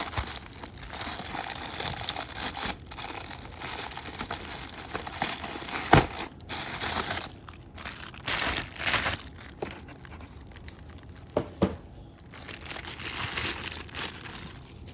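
Marvel Legends X-Men action figures are unpacked from plastic-free cardboard and paper packaging, giving close, continuous crinkling, rustling and tearing with a few sharp cracks.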